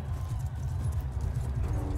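Horse hooves clop at a quick, uneven gallop in Mount & Blade II: Bannerlord, a dense run of muffled thuds under a low battle din.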